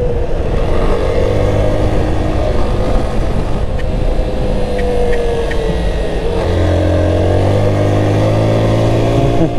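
Motorcycle riding through a series of roundabouts, its engine loud and close throughout with steady droning harmonics that dip and rise in pitch as the bike slows and accelerates again.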